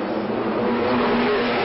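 Grand Prix racing cars from the 1963 Monaco Grand Prix roaring past in a pack, a loud, dense, continuous engine wash with no talk.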